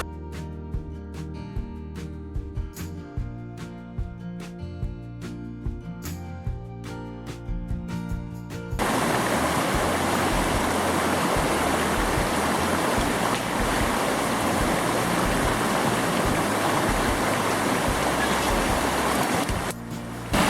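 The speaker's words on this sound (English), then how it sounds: "Little waterfall on one of the claims." A steady, loud rush of falling water fills the scene after some sharp clicks and knocks, continuous and close, a small waterfall pouring nearby at a gold mining claim near Blewett Pass, Washington State.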